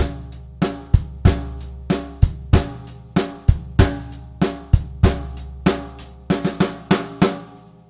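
Drum kit playing three bars of a Trinity Grade 4 rock groove, steady sharp hits closing with a quicker two-beat fill, played alone and close.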